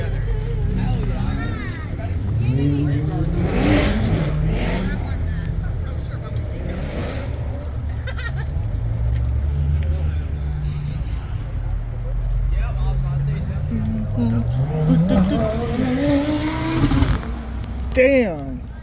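A supercharged Camaro at an exotic car show in Rochester, NY, its engine rumbling and revving loudly, rising to a surge near the end, with people talking over the noise throughout.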